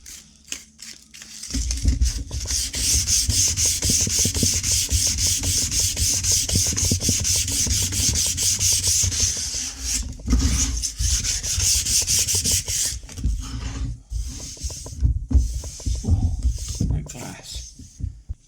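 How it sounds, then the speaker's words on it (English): Pine chopping boards are sanded by hand in rapid back-and-forth strokes, a close, loud rhythmic rasping that runs for most of the stretch, pausing briefly near the end before a few more strokes. "so I'm going to give these a bit of a sand down"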